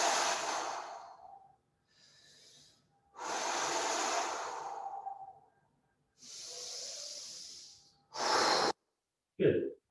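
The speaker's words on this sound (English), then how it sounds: "And exhaling." Slow, audible breaths taken during a yoga forward fold come close and clear, a few long breathy exhales and inhales separated by silence, ending with short sharper puffs.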